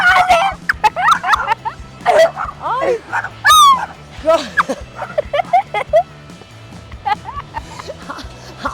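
A dog barks and yips several times in quick bursts, close by and loud, mixed with excited human voices and laughter.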